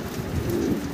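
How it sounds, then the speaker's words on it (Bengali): A pair of black Roman pigeons giving a brief low, soft cooing murmur, close by and alone. "ব্ল্যাক এক জোড়া রোমান গাল কবুতর দেখতে পারতেছি"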